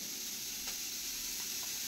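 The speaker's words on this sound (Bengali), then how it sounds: "আমি সবজিগুলো সাদা তেলে ভেজে নিচ্ছি" Vegetables salted and frying in white oil give off a steady, soft sizzle with a faint stir or two, alone without talk.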